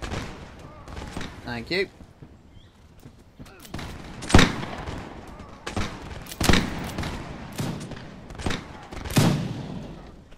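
Scattered musket gunfire in a Napoleonic-era Mount&Blade battle, several sharp shots spaced a second or two apart, some near and loud, with people talking in between.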